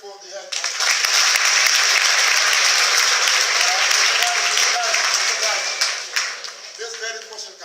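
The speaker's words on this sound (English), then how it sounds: "Can you clap it for the head?" Students at a school in Zambia clap together for their head teacher, a dense crowd of claps swelling quickly, holding loud and steady, then thinning out toward the end.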